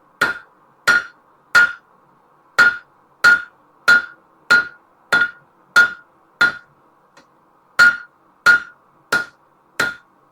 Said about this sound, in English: Let's do another heat here on the face of the anvil.